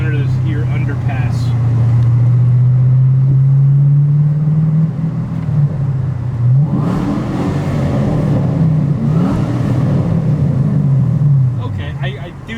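A car engine revs hard beneath a road underpass, a loud sustained rumble climbing in pitch for several seconds, dropping, then roaring up again and echoing off the concrete, with people talking under it.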